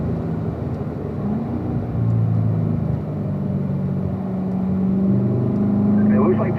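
A car engine hums and builds as it accelerates down a straightaway, a steady rumble rising in pitch beneath someone talking throughout.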